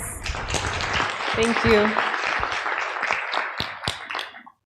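An audience applauds after a talk at the Africa Evidence Summit, a dense patter of clapping that swells and then thins out, with a voice speaking briefly over it.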